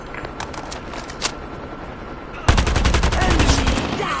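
Rapid automatic fire from a deployed sentry gun in a Call of Duty multiplayer match on Suldal Harbor, starting abruptly and running loud and sustained after a quieter stretch of ambient game noise.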